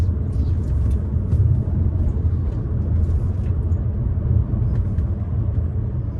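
Interior engine and road rumble from a 2014 Peugeot RCZ cruising in fourth gear, a steady low drone throughout with no speech.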